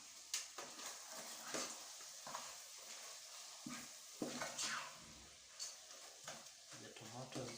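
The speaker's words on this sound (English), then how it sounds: "At this point we shall mix them." Cooked tomatoes are stirred in a pot on a gas stove, giving a series of irregular scraping and clinking strokes under a faint sizzle, fairly quiet and close.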